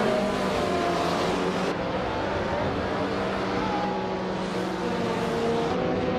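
A 2018 Ford Mustang GT4 race car in a racing video game, its engine a loud, continuous close roar that holds steady with slight shifts in pitch.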